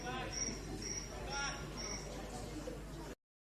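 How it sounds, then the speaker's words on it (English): A phone ringtone of chirping crickets plays as steady repeated high trills, under a commentator's continuous talk and low crowd noise, cutting off abruptly near the end. "A ringtone that is crickets chirping"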